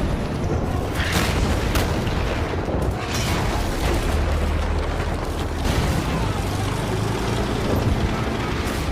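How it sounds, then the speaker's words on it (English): Howitzer artillery barrage in a Russian war film: a dense, continuous wall of loud, heavy booms and rumbling blasts that overlap with no pauses. "At the commander's signal, hundreds of howitzers open fire. Boom boom boom."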